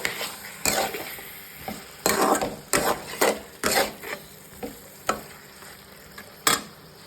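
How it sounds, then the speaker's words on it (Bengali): Green jackfruit curry is stirred as it fries in ghee: a spoon scrapes and clatters against the pot in irregular bursts over a faint steady sizzle, with no voices. "ঘি দিয়ে এবার একটু নাড়াবো"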